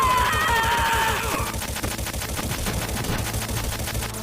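A rapid burst of video game gunfire from Metal Gear Solid chatters steadily and fairly loud, with a brief tonal radio-like sound fading out near the start.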